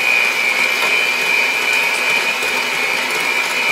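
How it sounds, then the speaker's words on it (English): A handheld electric mixer whirs steadily as it beats an egg into banana bread batter, a continuous close, loud motor hum with a high whine and no pauses or talking. "We'll grab our mixer. Just get that mixed in."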